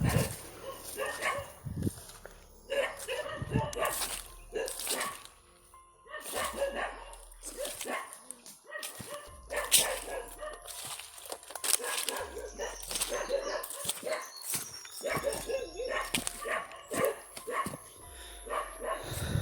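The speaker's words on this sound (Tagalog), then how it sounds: "May aso tol sa kalayuan." Dogs bark repeatedly at a distance, sharp yelps rising and falling in irregular bursts, with faint background noise between them.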